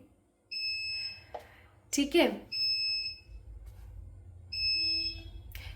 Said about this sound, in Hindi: ये इन्वर्टर की आवाज़ है जो आप लोगों को सुनाई देती है